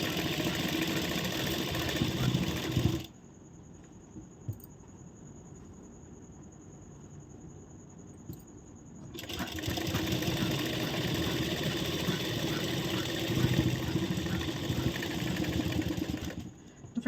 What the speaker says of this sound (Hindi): बॉबिन में धागा ख़त्म हो गया, हम अभी इस पर धागा भर लेते हैं पहले।